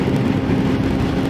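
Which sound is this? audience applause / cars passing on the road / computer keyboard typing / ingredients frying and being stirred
cars passing on the road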